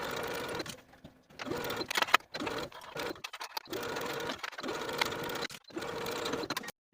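A sewing machine sews a tank top's arm side seam, running in several close-up bursts of rapid whirring stitching. Short pauses and near-silent gaps separate the bursts.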